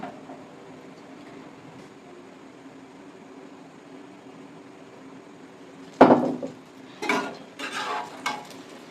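Paratha being fried in oil at home: a steady low hum, then a sudden loud sizzle as the dough hits the hot oil, followed by several more bursts of crackling frying.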